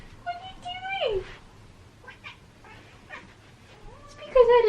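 A pet cat meows at the door, two clear drawn-out cries at the start and end, close and fairly loud, with a quieter voice speaking faintly in between.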